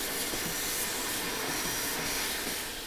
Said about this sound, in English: I'm gonna go ahead and vacuum up all this mess. A lot of metal shavings and whatnot.